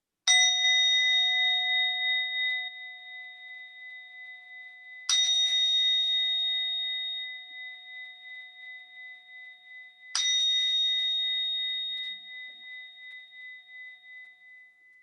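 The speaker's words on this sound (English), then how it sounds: "the sound of the bell." A mindfulness bell is struck three times at even intervals, each bright metallic ring sustaining and slowly fading before the next strike, alone with no talking.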